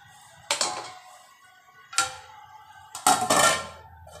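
A lid goes onto a pot of Hyderabad-style chicken dum biryani with three separate metallic clanks about a second apart, the last one longer and rattling, heard close by in a quiet kitchen.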